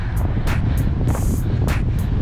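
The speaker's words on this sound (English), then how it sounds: "Sorry it's so windy." Strong wind buffets the microphone continuously at an outdoor skate spot in California, a loud rumbling roar with occasional gusty bursts and no voices.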